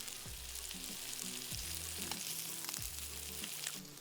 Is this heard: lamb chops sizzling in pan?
yes